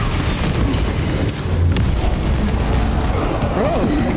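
Loud, continuous gunfire and booming impacts in Warhammer 40K Space Marine 2, layered with game effects and a rising-falling tone, while voices talk over it.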